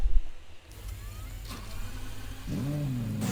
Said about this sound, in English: Oh, we're starting a car.